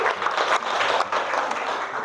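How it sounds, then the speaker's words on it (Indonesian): Students in a mathematics classroom clap together, a brief burst of crowded, uneven hand claps with small surges, fairly close and without any talking over it. "tepuk tangan dulu buat Vivi"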